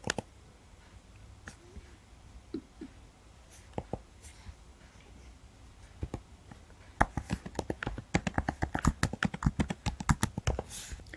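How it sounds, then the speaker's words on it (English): Typing on a computer keyboard while entering search keywords into Google: a few scattered, isolated key clicks at first, then a rapid, steady burst of close, crisp keystrokes in the last few seconds, with no talking. "Let's type our keywords into Google."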